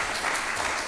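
Audience applause welcomes a speaker at a panel discussion on AI, a brief, even wash of clapping from a crowd.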